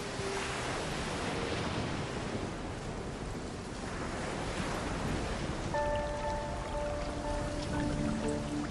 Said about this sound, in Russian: Громады айсбергов срываются в быстро поднимающиеся воды штормового океана.